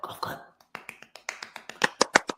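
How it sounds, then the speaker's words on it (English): A short burst of speech gives way to a slow, sparse golf clap: about a dozen light, separate hand claps, growing slightly sharper toward the end. "Golf clap."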